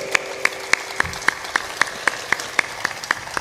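Listeners at a religious talk clap together in a slow, even rhythm, a dozen or so distinct claps spaced steadily apart over a quiet background hum.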